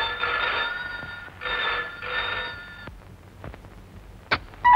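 An old-style telephone bell rings in two close bursts, the ringing loud and near, then stops and is followed by a few faint clicks and handling sounds.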